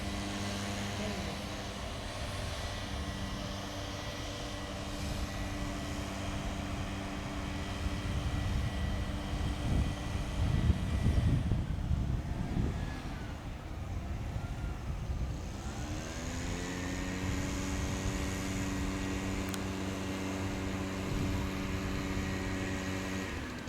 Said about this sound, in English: every time we're here, the guy's using the blower